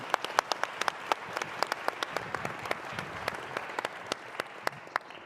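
A scattered audience at a conference closing session claps for Dylan, sparse and distinct individual hand claps in a brisk, uneven rhythm, moderately close, with no talking.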